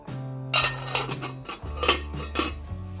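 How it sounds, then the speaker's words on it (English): Metal pot clattering as a spoon stirs an almond paste, then a lid knocked and set down, with sharp clinks and scraping up close in a home kitchen. "Give it a stir. And let's close the lid."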